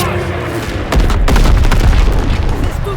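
Cannon fire and explosions in the Call of Duty WWII battle of Operation Cobra, heavy booming blasts and crackling gunfire in a dense, continuous barrage with shouting voices mixed in.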